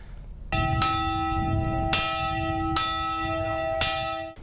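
A bell tolls at a National Day of Remembrance ceremony held at the Algonquin Regiment in North Bay, four loud, ringing strikes evenly spaced, each leaving a long sustained hum, with no talking.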